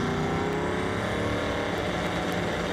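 A drag racing car launches hard off the line at a street-style drag event in the Carolinas, a loud, continuous engine roar that holds steady throughout with no voices.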